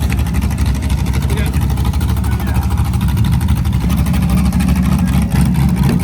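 A burnout car on a track revs hard, with a loud, constant engine roar holding at full throttle throughout and some talk over it.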